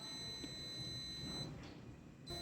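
A multimeter on continuity test emits a steady, shrill electronic beep while probing MOSFETs during a solar converter repair. The tone holds, cuts out briefly, then resumes near the end over low background noise.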